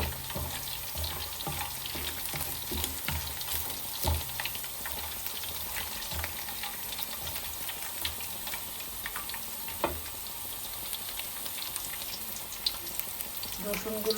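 Chopped garlic fries in hot oil with a steady, soft, crackling sizzle that runs the whole time, with scattered tiny pops and an occasional faint scrape, all fairly quiet and without talk.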